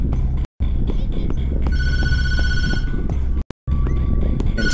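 A telephone rings repeatedly inside the horror video game Tattletail, with steady electronic ring tones holding through most of the moment over a dense game background, cut by two brief silent gaps.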